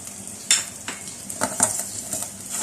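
Mashed potatoes with pomegranate seeds and spices are stirred in a pan for samosa filling, giving irregular scraping and clinking strokes of a utensil against metal over a faint sizzle.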